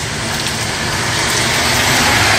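Hail falling in Oakland, California: a steady, dense patter of small ice pellets on outdoor surfaces, continuous and fairly loud without break, with no voices over it.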